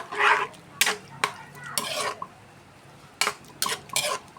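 A spatula stirs pork giniling with fresh tomato and oregano in a pan, making several distinct scraping clanks against the metal in irregular bursts with quiet gaps.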